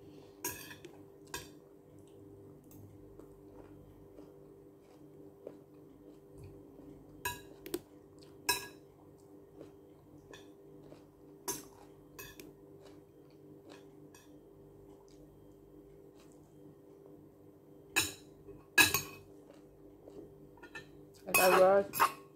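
Plates and cutlery clink intermittently during dishwashing, with sparse sharp knocks over a steady low kitchen hum and a louder cluster of clattering near the end.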